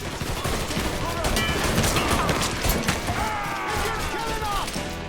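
Shotgun fire in the Mafia 3 video game, a loud burst of blasts and crashing impacts in a busy firefight with voices shouting over it.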